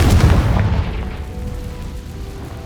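A Confringo fire spell bursts in Hogwarts Legacy, a single loud booming blast that hits at once and rumbles away over a couple of seconds.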